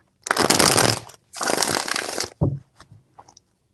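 Tarot cards being shuffled close up in two long, loud riffling bursts, followed by a few brief taps and slaps as the deck settles.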